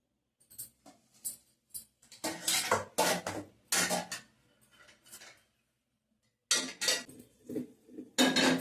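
A metal spoon scrapes and clinks against a cooking pot while stirring cooked drumstick leaves, coming in bursts of close, sharp scraping with short quiet pauses between them.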